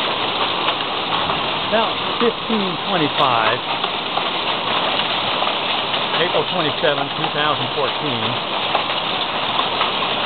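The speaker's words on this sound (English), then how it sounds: "the hailstorm that we've been waiting for all day has finally arrived, and I'm getting video of it" Hail and heavy rain pour down steadily during an April afternoon storm, a dense, even hiss lasting throughout while a person speaks over it.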